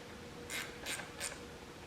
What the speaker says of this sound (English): I'll just take my 1/4 inch drive and I'll just snug these up